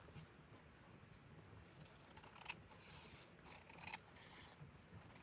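Scissors snipping through scrap paper during junk-journal crafting, a soft close run of crisp cuts and rustling paper, quiet and without speech.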